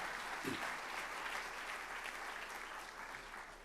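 Audience applause filling an auditorium at an architecture finalists' showcase, steady dense clapping from many hands that holds evenly throughout without voices on top.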